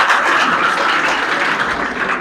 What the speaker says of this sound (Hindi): तो सबसे पहले इसके लिए ताली बजाइए आप लोग।